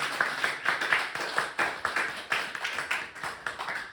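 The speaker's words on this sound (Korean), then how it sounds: "If you believe, clap your hands to Jesus Christ." A church revival meeting audience claps hands together in a fairly rhythmic pattern, repeated sharp claps of moderate loudness forming a steady pulse in a large room.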